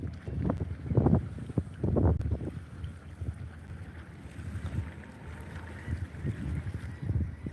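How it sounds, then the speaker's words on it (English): Low engine rumble of a Coast Guard boat on the water, rising and falling in bursts, mixed with wind buffeting the microphone. "that orange boat back there is the Coast Guard boat."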